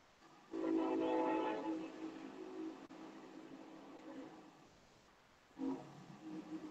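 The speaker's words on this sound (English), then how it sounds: "There goes the train." A train goes by in the distance, a steady broad rumble that swells, fades slightly, then rises again near the end, with a faint horn-like tonal band.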